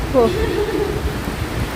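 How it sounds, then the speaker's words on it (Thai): Rain falls steadily as a soft, even hiss, with a brief high voice or whistle-like call near the start over the constant wash. "ฝนตก"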